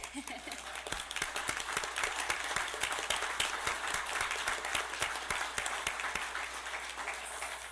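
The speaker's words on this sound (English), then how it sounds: "We can still clap for" At a city meeting, an audience honors a local volunteer with applause: many hands clap in a continuous, even patter, faint and slightly distant, with some talk underneath.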